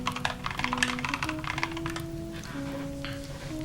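Fast, irregular clicking of keys on a computer keyboard, close and fairly clear, while a soft sustained tone hums underneath.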